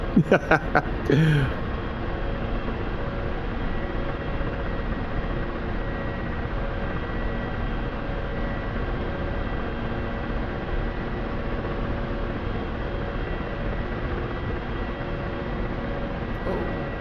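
Chinook helicopters in the DCS flight simulator, a continuous loud rotor-and-engine drone that holds steady throughout, with a few sharp clicks at the start.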